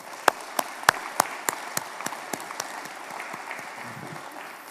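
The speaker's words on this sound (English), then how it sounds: "let's give them a round of applause." Church congregation at a pastor appreciation service giving a round of applause, several sharp rhythmic claps up front over a soft wash of lighter clapping that trails off.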